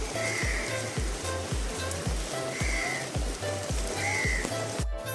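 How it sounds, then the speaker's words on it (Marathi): Heavy monsoon rain pours down in a steady broadband wash, with regular dull thuds of water striking a surface nearby at an even, repeating rhythm. "खूप म्हणजे खूप पाऊस आहे."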